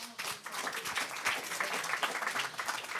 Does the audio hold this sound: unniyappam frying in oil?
no